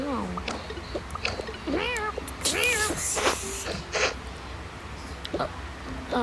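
A sick cat gives several drawn-out, wavering meows, close by and fairly quiet, while someone talks to it between the calls.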